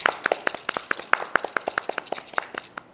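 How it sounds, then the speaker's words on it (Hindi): Hands clap in a quick, even rhythm, sounding like a small group applauding for a guest at a talk show. The crisp, close claps follow one another steadily with no voices. "ज़ोरदार तालियां हो जाए"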